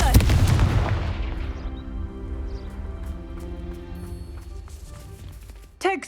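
Confringo fire spell blasts in the video game Hogwarts Legacy: a loud booming explosion that rumbles and decays over several seconds, followed by a sharper burst near the end.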